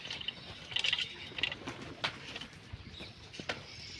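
A few pigeons perched in rainy weather give faint, scattered calls. Their soft coos and short notes come and go over a quiet background with light rustling.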